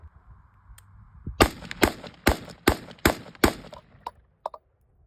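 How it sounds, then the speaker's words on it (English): Rapid string of about eight sharp gunshots at target practice drills, fired in quick succession with a brief pause before two final shots, loud and close with no talk. "I got 12 shots, so we're gonna do it 2 more times and probably just go for it and then examine the target after"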